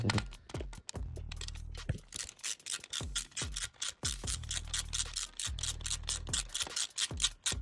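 A ratchet wrench works a bolt loose on a Suzuki ZZ Inch Up Sport scooter, its fast clicking pawl sounding in repeated bursts of close, sharp ratcheting with short pauses between strokes.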